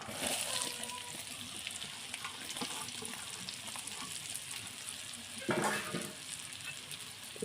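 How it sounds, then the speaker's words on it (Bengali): Spiced sour-hot mango pickle being stirred in a pan with chilli powder and fried spices, a steady close sizzle and frying crackle with soft scraping, and a louder burst of sizzling partway through. "একটু নাড়িয়ে নেব।"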